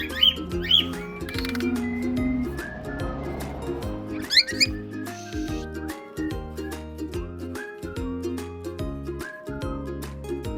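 Pet birds sit outdoors in the sun drying off after their bath, giving repeated sharp chirps and squawks close by, with scattered short calls and a few louder bursts.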